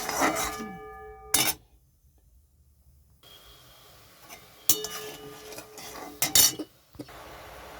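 A spoon stirring sugarcane jaggery and sugar together in a bowl, heard as scattered clinks and taps of metal against the dish, with a quiet pause partway through before a burst of clattering mixing strokes.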